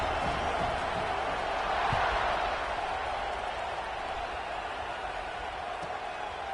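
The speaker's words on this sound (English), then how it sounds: "this crowd is buzzing after that last score" Stadium crowd at a football game buzzing after a touchdown, a dense steady roar of many voices with a slight swell around the second mark, heard alone without commentary.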